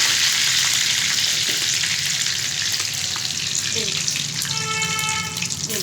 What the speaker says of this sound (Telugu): తాలింపు పెట్టుకోవాలి